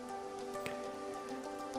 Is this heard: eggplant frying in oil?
no